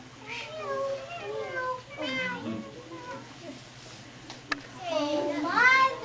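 Children's voices imitate kittens crying and meowing at a school program, a few drawn-out, wavering mews rising over a steady background hum, with a louder cluster of cries near the end.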